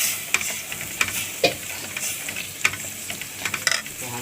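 Tomatoes going into a pan over golden garlic for Egyptian koshari, a soft sizzle broken by a few sharp clinks and scrapes of a utensil, close up, with no speech.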